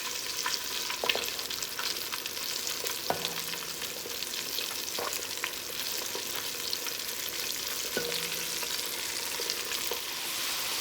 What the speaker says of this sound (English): You want a steady fry, but you don't want a hard fry.